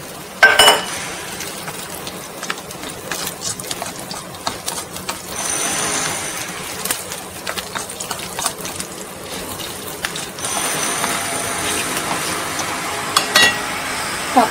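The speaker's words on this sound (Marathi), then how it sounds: "परत तेलामध्ये परतवायचं आहे सगळं" Garlic, peanuts and onion fry in oil in a pan for an ambadi greens dish, a steady sizzle broken by scraping and clattering as they are stirred.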